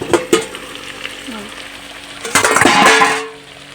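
Meat curry being stirred in a pan, a few scraping stirs and a brief sizzle surge near the end, close and fairly loud with no talk.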